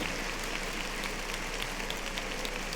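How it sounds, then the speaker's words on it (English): Steady, dense applause from many hands forms an even wash of clapping that holds at a constant level for the whole stretch, with no voices standing out. "Clap it up, man."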